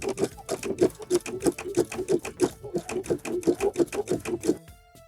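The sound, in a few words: embroidery sewing machine stitching with spring needle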